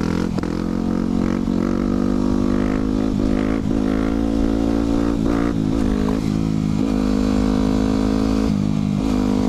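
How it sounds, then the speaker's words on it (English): A loud motorcycle being ridden and wheelied, its engine roaring steadily up close with rising and falling revs and some mechanical clatter, no voices over it. "I fucking love this bike. It's so loud."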